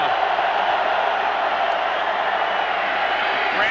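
Stadium crowd roars steadily throughout a college football game between Virginia Tech and West Virginia, a dense, loud wall of cheering and whooping with no break.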